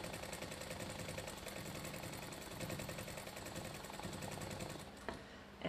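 Sewing machine stitching free motion quilting on a preprinted fabric panel, a fast, steady mechanical whirring and rattling, close and continuous, stopping abruptly near the end.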